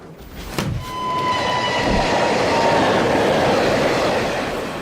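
The Orient Express passenger train rolls along the rails with a loud, steady rumble and rising wheel noise, a brief clank near the start and a thin whistle-like tone above it.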